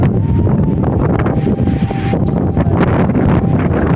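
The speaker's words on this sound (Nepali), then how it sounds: "यहाँ चाहिँ हावाले उडौला जस्तो भइरहेको छ।" Strong wind gusts buffet the microphone outdoors, a loud continuous roar and rumble with shifting intensity, alone without voices.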